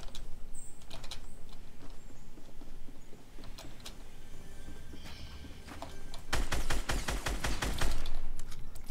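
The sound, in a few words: gunfire in the video game Fortnite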